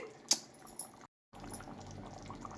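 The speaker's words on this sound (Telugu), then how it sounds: "మనం కట్ చేసి పెట్టుకున్న ఈ మామిడికాయ ముక్కల్ని వేసేసుకుందాం" Pieces of raw mango are dropped into a simmering Nellore-style fish curry with oil floating on top, giving two brief soft plops, a short break, then a steady low simmering hiss.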